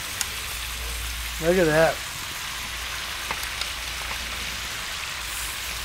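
Thick steaks sizzle steadily in hot oil on a Disc-It disc cooker, a continuous hiss like rain running under a short spoken remark.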